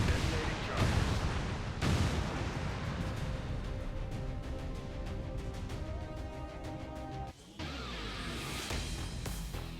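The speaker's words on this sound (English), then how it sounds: "Detonating charges." Explosive charges detonating in XCOM 2, with heavy booming blasts up front followed by rumbling debris and crackling, then a sudden cut to a quieter layered sound.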